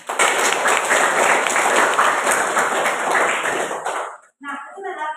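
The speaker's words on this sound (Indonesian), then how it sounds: "Kita berikan aplaus dulu." A class applauds together, a dense burst of clapping lasting about four seconds, loud and close, then stopping abruptly before a few brief tonal sounds.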